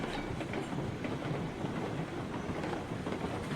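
A locomotive in the train game RailRoads Online rolls down the line with a steady, dense rumble and faint rhythmic clatter of wheels, continuous and fairly loud with no voices.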